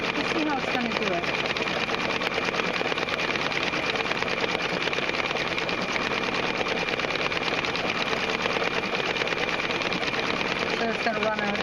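A Brother Quattro II embroidery machine runs a running stitch in a steady, continuous mechanical whir, close and even throughout, with a voice talking over it.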